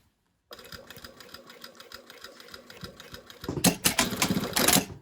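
A sewing machine stitches down a bound buttonhole window with a steady, close, rapid mechanical chatter. Near the end come louder, harsher clacks and handling noise.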